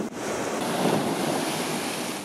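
Heavy surf pounds off Makatea, a raised atoll in French Polynesia, heard from a boat on a mooring as a continuous loud roar of breaking waves mixed with wind buffeting the microphone.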